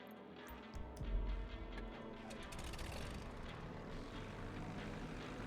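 Seaplane engine in GTA Online, a low continuous propeller drone that swells in after a quiet start and holds steady, faint and without talking, with light ticking clicks over it.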